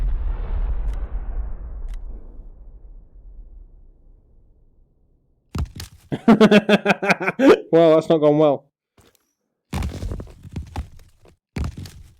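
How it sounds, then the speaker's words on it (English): Rubble collapsing in the video game Crunch Element Alpha gives a loud, low thudding rumble that slowly fades over several seconds, followed by someone speaking with further thumps between his words. "Rubble has a nice thudding sound to it as well."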